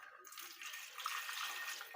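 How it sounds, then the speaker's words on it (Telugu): Half a glass of water poured into a pan for making ariselu, a faint, continuous splashing trickle lasting about two seconds with no talk. "ఇదిగోండి నీళ్ళు"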